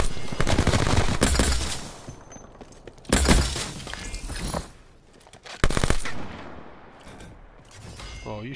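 Rapid bursts of rifle gunfire in a video game firefight, loud and close, in several clusters with short pauses between them and sharp metallic cracks.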